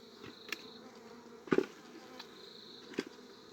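Wild honeybees buzzing around their hive in a hollow of a large tree, a steady droning hum with a few louder passes as individual bees fly close, no voices.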